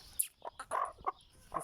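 A Lakha Aseel hen clucks close by in a quick series of short, throaty calls, loud and clear with nothing else around them.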